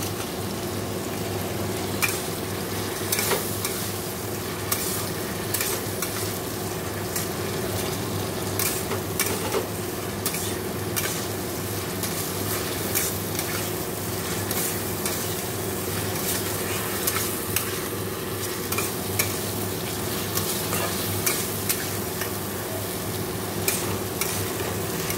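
Papaya pieces fry in a spice masala that has cooked down until the oil separates, sizzling steadily while a spoon stirs and scrapes against the pan in frequent sharp clinks.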